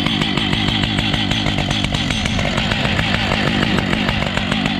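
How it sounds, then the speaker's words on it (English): Stihl MS-880 chainsaw, a large saw with a roughly 122–125cc engine, running steadily at high revs during tree work, loud and close with a continuous buzzing drone and no talk. "I brung out the big saw."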